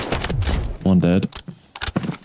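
Gunfire during a match of the shooter game Delta Force Operations on the Leali Grove map: a few sharp shots and bursts break through while someone talks over them.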